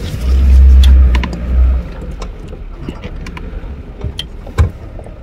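A car engine idles and rumbles loudly and close as the vehicle is moved back during a tiger sighting in Dhikala zone, the low throb swelling and then easing to a quieter hum.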